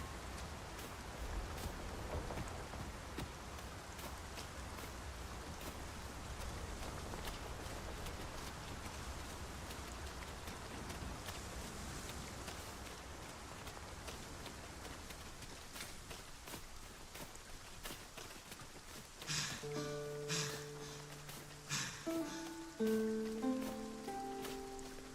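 Rain falls steadily in the fantasy game Dragon's Dogma 2, a broad constant hiss with scattered louder drops and rustling, while near the end tonal game sounds and soft musical notes rise over the downpour.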